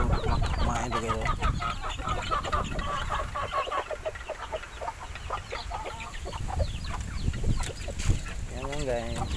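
A flock of backyard chickens clucks busily while being fed, with a steady mix of close and overlapping clucks and squawks and a voice speaking over them throughout.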